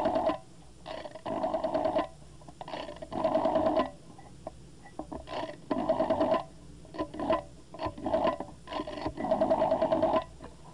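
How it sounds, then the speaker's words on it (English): A rotary telephone dial is turned and released repeatedly, giving bursts of rapid ratcheting clicks separated by short pauses, recorded close on an old tape recorder. "the first was a telephone dial"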